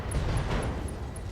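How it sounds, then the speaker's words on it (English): In the RogueTech video game, Streak SRM ammunition detonates inside a mech as a short, loud burst of rumbling blast noise, with faint repeating high electronic beeps over it. "Streak SRM ammo explosion there."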